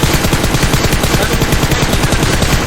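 Loud, continuous automatic gunfire rattles nonstop in PUBG Mobile as shots are fired at a car, a dense rapid stream with no pauses.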